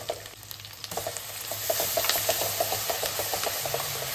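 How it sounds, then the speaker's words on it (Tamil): Onion and garlic paste frying in hot oil crackles and sizzles continuously with small popping bursts, close up and steady, with no voices. "இப்போ நம்ம அரைச்ச விழுது இதில் சேர்த்துறோம்."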